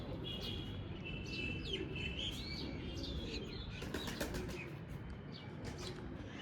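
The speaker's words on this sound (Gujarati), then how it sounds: "ચકલા બોલે છે।" Sparrows chirp and tweet in the early morning after rain, a faint, busy scatter of high calls with a brief flutter of wings and no talk.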